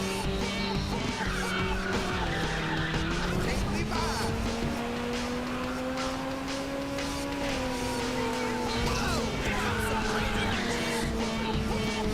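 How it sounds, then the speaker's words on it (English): Ridge Racer 6 engine roar climbs and holds in pitch while tires squeal, with a whooshing nitro boost layered over the dense, loud mix. "And the nitro sound"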